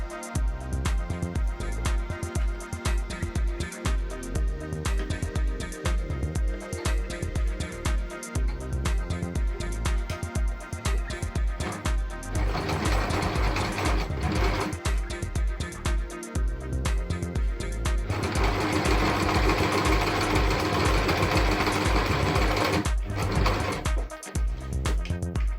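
A sewing machine stitches down the edge of a fabric face mask, running as a steady mechanical whir through the whole stretch with no talking, growing louder and denser in its middle and later passages.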